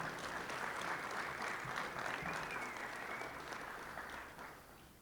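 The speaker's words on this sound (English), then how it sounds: "let's give all our dignitaries a warm round of applause" A crowd applauds steadily at a sports hall of fame ceremony, a dense wash of clapping that holds for several seconds and then slowly tapers off.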